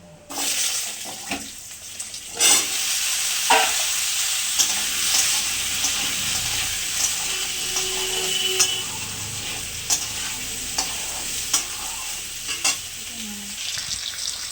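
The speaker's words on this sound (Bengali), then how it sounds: "ডালগুলো একটু ভাজে ভাজে হয়ে গেছে এবার আলুগুলো দিয়ে" Potatoes hit a pan of frying drumstick stalks with a burst of sizzle, followed by repeated scraping stirs and sharp utensil clacks over a steady crackling fry.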